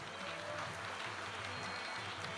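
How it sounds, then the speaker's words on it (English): A convocation audience applauds graduates during a name-reading ceremony, an even, sustained patter of many hands heard at a low, somewhat distant level. "please continue to cheer for these graduates"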